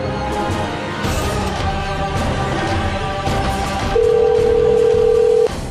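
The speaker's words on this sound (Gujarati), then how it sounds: "કૃષ્ણકાંત સાથે ફોન પર વાત કરીએ." A telephone call connects, with clicks and background noise before a steady, loud ringback tone sounds for over a second, alone without voices.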